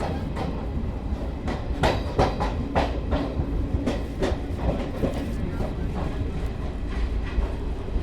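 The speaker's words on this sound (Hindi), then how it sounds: "इसमें चल रही है हमारी गरीब रथ एक्सप्रेस" The Garib Rath Express runs along the tracks, a continuous loud rumble with repeated clickety-clack wheel beats over rail joints, heard from inside the moving train with no talking.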